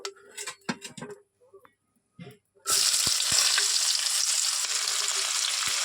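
A few clinks and quiet sounds, then onion drops into hot oil and a loud, continuous sizzle fills the rest.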